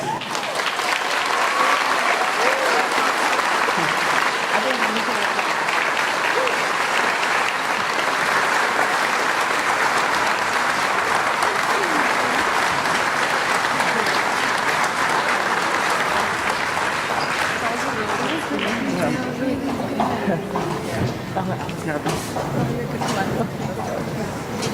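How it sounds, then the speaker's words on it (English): A breakfast audience at a 2017 State of the Schools event breaks into loud, sustained applause for about twenty seconds, which then thins out into crowd chatter and a few lingering claps. "Give another round of applause for"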